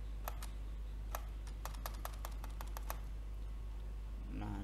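Computer keyboard keys pressed while configuring a Cisco router and switch, a run of sharp separate clicks in an uneven rhythm, moderately close, over a steady low hum with no talk.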